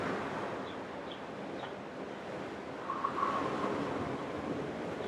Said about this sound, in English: let the crash of the waves cool anything that needs cooling